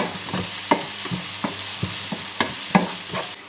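Onion with a little turmeric sizzles steadily in a hot pan while a utensil scrapes and stirs it at regular intervals, close and clear.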